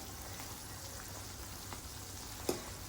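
Cream simmering in a kadai on low flame while ghee is being made, a soft steady bubbling sizzle with faint pops and one sharper crackle near the end, no voices.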